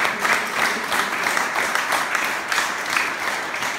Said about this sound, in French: maintenant, on peut encore les applaudir parce que vraiment